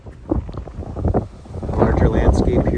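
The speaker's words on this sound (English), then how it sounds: "Yeah, windy." Wind gusting at Potholes Reservoir in Washington, roaring and buffeting the microphone and swelling louder toward the end, with a person talking over it early on.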